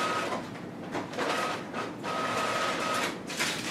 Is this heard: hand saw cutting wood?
no